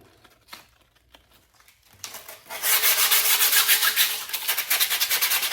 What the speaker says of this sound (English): you take some of your scrap and you just kind of sand it a little bit to